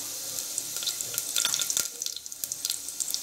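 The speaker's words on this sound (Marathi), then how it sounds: "हे चांगले मस्त मसाले फ्राय करून घेऊया।" Onion and ground spices like chili powder, turmeric and coriander frying in a pan, a soft crackling sizzle with light scraping and stirring, close and moderately quiet with no talk.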